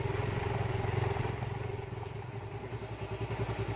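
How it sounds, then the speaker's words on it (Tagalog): A motorcycle engine is started and runs so the rear drive chain spins during chain cleaning and maintenance. It gives a close, steady idle that settles into a rhythmic pulsing chug toward the end. "Start natin yung motor para automatic iikot siya."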